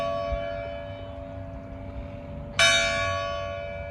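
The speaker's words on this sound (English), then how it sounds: "church bell saying hello to you" A single church bell strike rings out near the end in the village of Eze in southern France, bright and resonant, its tone decaying slowly over a humming background.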